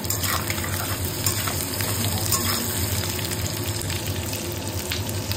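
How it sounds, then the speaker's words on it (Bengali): Boiled potatoes and chopped onion fry in oil in a pan, giving a steady, dense sizzle with faint bubbling that holds at an even level throughout, with no voices. "পেঁয়াজের সঙ্গে আলু ভাজা হয়ে যাবে।"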